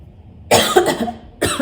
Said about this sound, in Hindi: खांसी ज़्यादा हुई है।